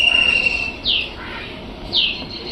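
Pigeons kept at home give two short chirping calls about a second apart, fairly close, over a quiet background hum.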